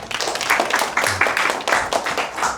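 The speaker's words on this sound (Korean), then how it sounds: "박수!" A classroom of students claps in bursts during a cryptography lecture, with uneven, choppy handclaps rising and falling in waves that sound close and fairly loud.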